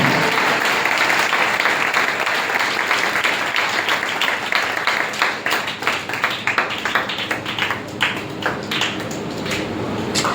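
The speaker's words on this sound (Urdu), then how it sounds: "زور سے تالی بجائیں" A church congregation claps loudly together, a dense, sustained roar of applause that breaks into more distinct, rhythmic claps partway through and stays strong to the end.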